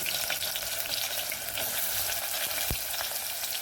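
Chopped onion sizzling in plenty of hot oil for a mutton curry, a loud continuous crackling fry with a few sharp pops and stirring clinks, no voices.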